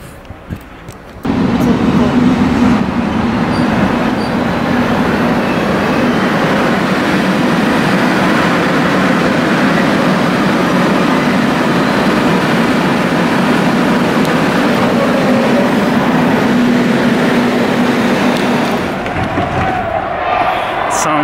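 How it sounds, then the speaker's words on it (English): A subway train pulls into a station in Korea, its loud steady rumble and rolling roar filling the platform for most of the time before easing off near the end. "The train bound for Cheongnyang-ni is now approaching."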